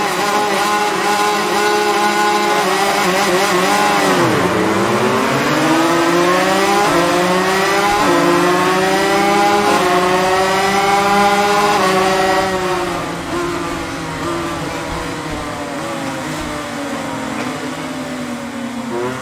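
MotoGP motorcycles idling and revving on the starting grid at Sepang in the MotoGP 22 video game, a loud steady multi-engine drone with rising and falling pitch throughout.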